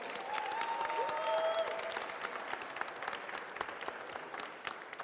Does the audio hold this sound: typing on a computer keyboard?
no